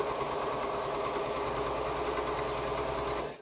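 A sewing machine stitches through quilt layers at a steady, continuous pace, its even motor hum and needle rattle close and unbroken for the whole stretch, with no talking.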